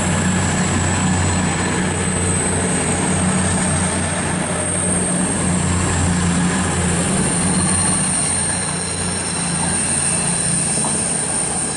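Train 153383 running through Loughborough station, a loud continuous rumble of a passing railcar with metallic wheel squeal and a faint rhythmic clatter, close by and with no talking.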